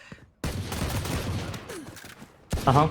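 Rapid gunfire bursts in a Valorant esports match, a dense volley of shots running for about two seconds, then a sharp loud burst near the end over a commentator's excited voice.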